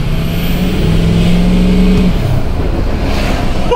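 Ford Excursion engine revving loud and close, a deep throaty roar holding a strong low drone with a brief rise in pitch partway through, heard alone without talk.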